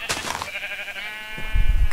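A Minecraft sheep gives one nasal, wavering bleat close up, followed by a low thump at the end, with no talk.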